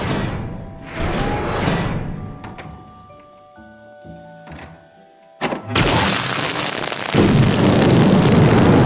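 A pneumatic cannon fires in the video game We Happy Few, a sudden loud blast of air that cuts through soft background ambience and is followed by a sustained roaring rush of wind.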